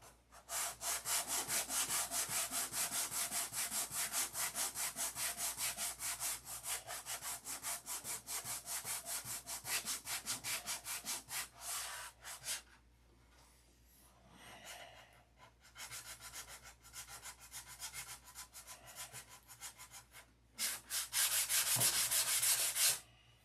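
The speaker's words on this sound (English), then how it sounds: "Yeah, sanding and sanding." Rapid back-and-forth rasping of sandpaper on wood, steady and close, pausing briefly midway before resuming in quicker strokes.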